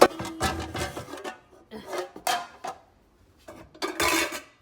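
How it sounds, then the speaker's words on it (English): Pots, pans and kitchen utensils clatter and scrape as they are packed into a moving box in a dorm room, in irregular bursts of rubbing and clanking with short quiet gaps. "So one of these boxes is for all my pots and pans and stuff."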